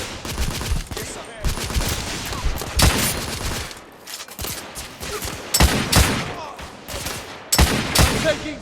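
Dense gunfire in The Order 1886, a third-person shooter: rapid volleys of overlapping shots and bursts, loud and close, surging and dropping in waves with brief lulls between barrages.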